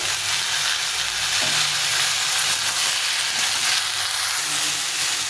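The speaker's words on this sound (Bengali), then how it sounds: "এখন আমি দিয়ে দেবো এই ঝিঙে আর পটলটা দিয়ে দেবো দিয়ে একটু ভেজে নেব" Ridge gourd and pointed gourd frying in hot oil, a steady dense sizzle and crackle close by, loud and continuous with no voices over it.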